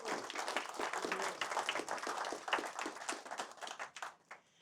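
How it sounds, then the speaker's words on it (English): Audience applause at an Origin Stories gathering with Phil Yanov, a warm round of clapping from a room of people that holds steady and then thins out and fades near the end. "I would like for us to give a round of applause to my pal Jim for pulling this off."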